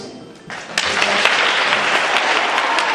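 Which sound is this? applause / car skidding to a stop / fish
applause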